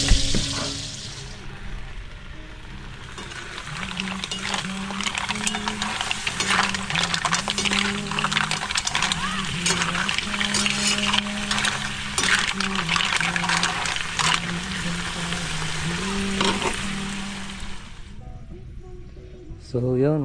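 Mussels sauté in a pan with ginger, garlic, onion and tomato, giving a soft, continuous sizzle with occasional light clinks, while a person talks over it through most of the stretch.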